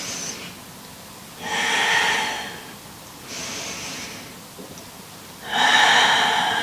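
Slow deliberate yoga breaths, four strong nasal inhales and exhales alternating at an even pace, close and clear with quiet pauses between them.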